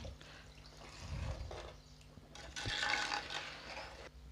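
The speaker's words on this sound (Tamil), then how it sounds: "இந்த குழம்புக்கு தேவையான தண்ணி நான் இப்போ ஊற்றிக்கிறேன்" Water is poured into an anchovy curry simmering in a pan, a soft, close, uneven splashing and gurgling of liquid under faint kitchen clatter.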